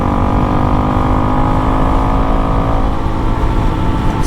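Honda CRF dirt bike fitted with a DNA air filter and a drilled-out airbox, pulling hard in sixth gear with a loud, steady, close engine drone and rising intake roar, with no talk.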